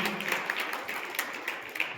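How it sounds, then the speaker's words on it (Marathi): Applause for students receiving trophies at a martial arts belt grading and award ceremony: a steady wash of many hands clapping across the whole stretch, moderately loud and fairly close, with no talking over it. "जोरदार टाळ्या झाल्या पाहिजे या मुलांसाठी."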